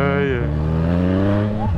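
A motorcycle being ridden on a street gives off a steady, close engine drone whose pitch shifts slightly, heard together with the rider's voice.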